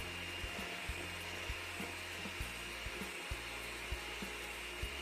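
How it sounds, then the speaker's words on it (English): An electric mixer whisks Swiss meringue buttercream with vanilla extract in a steady, faint motor whine, with regular light ticks as the beaters knock against the bowl. "I'll whisk everything up until they are well combined and so"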